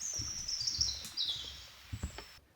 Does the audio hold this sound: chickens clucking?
no